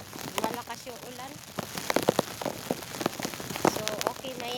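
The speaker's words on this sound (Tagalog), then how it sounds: "Parang lumalakas yung ulan" Heavy rain drums and patters on an umbrella, a dense, close crackling spatter of drops that runs steadily throughout.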